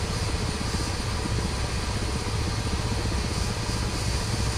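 A Ka-50 Black Shark coaxial-rotor attack helicopter from the DCS flight simulator game runs steadily on the ramp, a dense, constant engine and rotor drone with rhythmic low thumping, loud and unbroken throughout.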